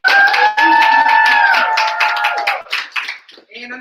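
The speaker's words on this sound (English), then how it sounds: "another round of applause" Graduates of an entrepreneurship program are applauded at a pitch night and graduation ceremony. Clapping and crowd noise are mixed with a sustained tone at the start, then the sound thins into scattered claps by the end.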